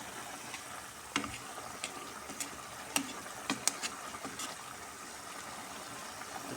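Potatoes simmer in a pan with a steady soft bubbling hiss, broken by scattered light clicks and scrapes as a spoon stirs them.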